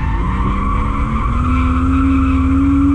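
A car drifting under handbrake with tires skidding in a long sustained squeal, a rising engine drone underneath, loud and close.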